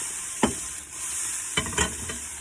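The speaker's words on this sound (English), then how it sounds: "Cook the pork off. We're just going to brown it off a little bit." Pork browns in a pan inside a van, giving a continuous close sizzle broken by a few sharp scrapes as the meat is stirred and kept moving.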